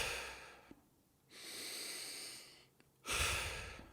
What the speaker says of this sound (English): If you take fast, rapid, deep breaths in